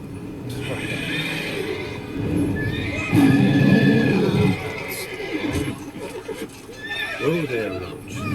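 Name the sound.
horse neighing in The Witcher 3 video game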